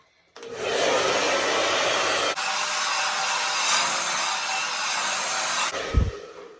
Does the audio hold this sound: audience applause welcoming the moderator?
no